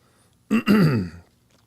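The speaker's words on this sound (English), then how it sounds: "Sorry about the coughing fit." A short harsh cough followed by a longer rough throat-clearing hack, close and loud, with quiet room tone around it.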